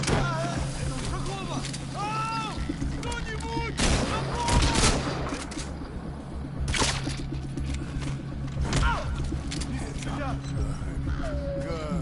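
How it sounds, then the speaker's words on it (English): Repeated gunfire bursts from a rubber baton launcher shotgun in Metal Gear Solid V, a few sharp loud blasts spread across the span, heard under ongoing talk and game music. "It used to be a rubber baton that would get launched out of the end of one of these shotguns."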